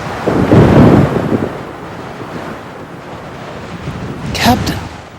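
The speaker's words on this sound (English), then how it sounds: "It was a dark and stormy night." Stormy-night sound effect with wind and rain-like broadband rumble, a low roll of thunder early on, and a brief crackling burst near the end, loud and without speech.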